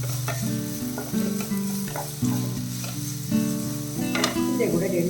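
Chopped onions hit hot oil for a mushroom masala, giving a continuous sizzle with stirring clatter and scraping throughout, close and moderately loud.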